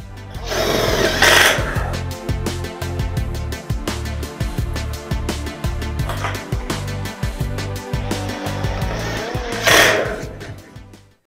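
A power screwdriver drives screws into the framing of a veranda being built onto a house: two loud whirring bursts at the start and end, with steady rhythmic knocking and rattling of the work in between.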